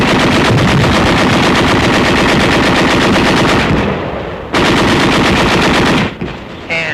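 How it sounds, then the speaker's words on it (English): Sustained automatic fire from BAR and machine guns in a WWII combat setting, dense loud bursts hammering almost continuously, easing briefly near the end before resuming. "With BARs and machine guns."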